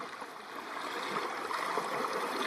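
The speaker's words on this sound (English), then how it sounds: "We have to cross this river right outside of the campground" Creek water flows steadily beside a backcountry campground in Banff's Front Ranges, running slightly high after thunder showers, a continuous, moderately close rushing and gurgling with no voices.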